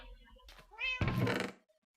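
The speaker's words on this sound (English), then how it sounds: "And of course, now you're going to meow every other... Oh, never mind. Every other minute." A cat meows in the Minecraft Feed The Beast video game: one drawn-out, fairly loud meow near the middle, preceded by a softer soft sound and low rumble.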